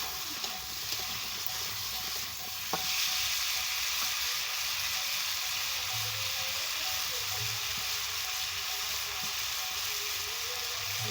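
Mixed vegetables fry in hot oil until browned, giving a continuous close sizzle with a few light stirring knocks and no talking.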